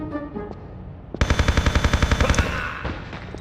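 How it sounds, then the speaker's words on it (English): Rapid automatic fire from the HK gun in the video game Tomb Raider Chronicles, a loud burst of about a dozen evenly spaced shots after a brief quieter lead-in. "I'm going to waste him with my rapid fire HK"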